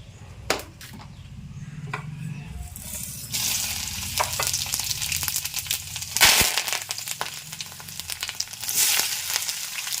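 Onion pieces tossed into a hot pan for a cucumber and drumstick curry, with a loud sizzle erupting after a few quiet clatters and crackling steadily under bursts of stirring.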